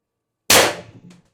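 One loud, sharp shot from an IntruBuster Gen 2 with an MCS 7.5 inch barrel extension firing 10 gram ammo, close by, with a short decaying ring and a small click just after, following silence.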